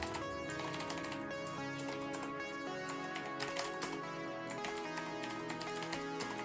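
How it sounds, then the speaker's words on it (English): Keys on a computer keyboard clatter in quick irregular bursts, faint beneath a steady background of music, no voices. "We're just going to type out some variables"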